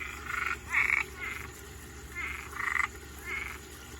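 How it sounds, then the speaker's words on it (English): Cuban tree frogs chirp in short raspy bursts outdoors in the evening, about six calls in two loose groups, moderately close over a faint background hum. "And those chirping are Cuban tree frogs."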